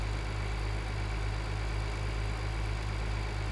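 A tractor engine pulling a mower in Farming Simulator 2013, holding a steady, loud, low drone throughout with no pauses and no talking.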